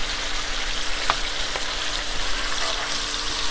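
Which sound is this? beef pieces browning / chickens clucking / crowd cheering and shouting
beef pieces browning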